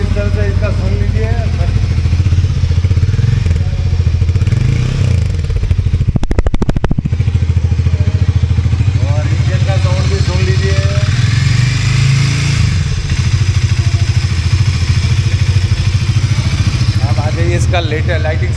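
Harley-Davidson X 440 motorcycle engine started and running, holding a loud, steady idle rumble throughout with a brief burst of noise early on, while someone talks over it.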